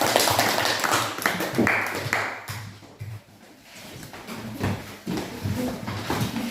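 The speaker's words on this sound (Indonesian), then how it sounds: "tepuk tangan untuk kelompok" Scattered applause for a student group in a teacher-training classroom session, a few hands tapping unevenly across the room with a brief lull in the middle, moderately loud and close.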